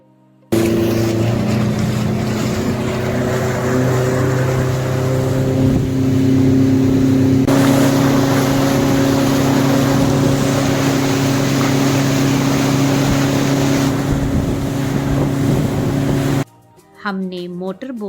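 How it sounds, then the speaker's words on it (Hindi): A motor boat carrying passengers on a ride at Uttarkashi, its engine droning loud and steady with a rising tone and water rushing past, before the engine sound cuts off near the end. "अब हम भी बैठ चुके हैं मोटर बोट की राइड के लिए"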